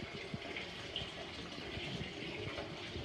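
Water runs steadily from a Moen single-handle bathtub faucet left open, a continuous close hiss and splash with no pauses and no voices.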